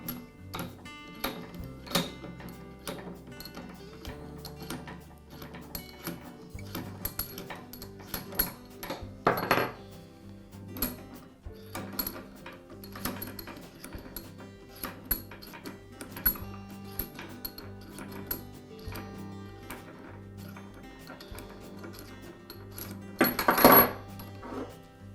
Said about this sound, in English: I'll begin by removing the two locking handles and separating the top half of the vise from the base.